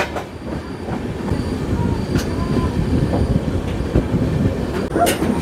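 A passenger train runs between stations at night, a loud continuous rumble of wheels on track with faint squeals and occasional rhythmic clacks, heard from inside the carriage.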